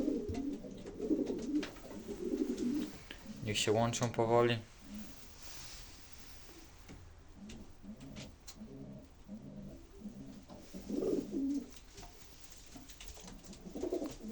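Pigeons coo softly and repeatedly in a loft on a warm day, males squabbling, with someone talking over them at close range.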